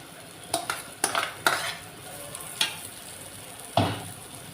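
Fried bitter gourd stirred into masala in a pan: a few sharp, close scraping and clinking strokes of a spoon against the pan over a low, steady sizzle, with gaps between the strokes.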